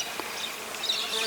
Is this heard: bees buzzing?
yes